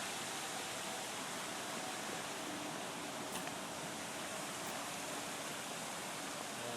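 Backyard waterfall in a landscaped yard, with water spilling over rock into a small whirlpool sitting pool, making a steady, even rush of flowing water that holds constant throughout at moderate, fairly distant level.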